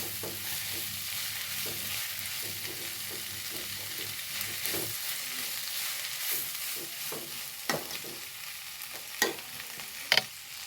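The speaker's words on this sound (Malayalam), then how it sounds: "ചിക്കൻ ഇട്ട് കൊടുക്കുന്നുണ്ട് ഇളക്കി കൊടുക്കട്ടോ" Chicken pieces and drumstick (moringa) leaves fry in a pan for a Kerala-style stir-fry, with a steady broadband sizzle and repeated scraping stirs, plus a few sharper utensil clicks near the end; no talking.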